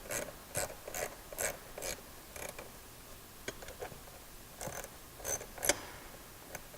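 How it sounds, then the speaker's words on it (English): An 8mm socket ratchets factory screws tight during a DiabloSport Pulsar install on a JL Wrangler 3.6L, giving quiet, close clicking bursts in irregular groups with gaps between. "We're just going to screw those back in, take our 8mm and tighten this down."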